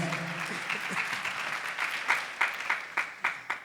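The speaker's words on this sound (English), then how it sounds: "Give them a nice round of applause" Audience applause for scholarship recipients at a college scholarship announcement, a broad crowd clapping that thins into a few louder, separate claps near the end.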